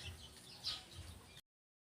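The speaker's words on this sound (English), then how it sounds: "It looks like the chicks are all over the place." Chickens cluck softly in short bursts over a low background hum, fairly quiet, then the sound cuts out briefly.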